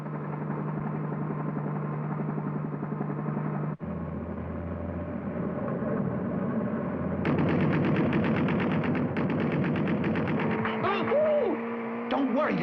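Cartoon bad guys firing guns at the racers, rapid machine-gun-style bursts over a continuous engine drone, growing denser and louder partway through with ricochet-like whines near the end.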